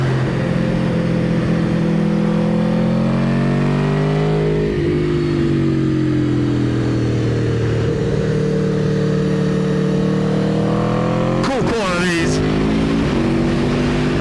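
A car accelerates in second gear around the Silverstone Grand Prix Circuit on a snowy trackday. The engine drones loud and close from inside the cabin as its pitch climbs steadily, then a sharp rev change and gearshift break in near the end.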